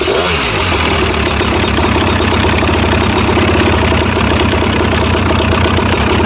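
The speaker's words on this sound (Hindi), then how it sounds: "अब मैं यहाँ से हैंड थ्रोटल से इलेक्ट्रिकली स्टार्ट कर रहा हूँ इसको।" A paramotor engine is electrically started from the hand throttle and settles into a loud, close, rapid idle, with a brief starter whir at the start and then steady mechanical chugging throughout, heard alone.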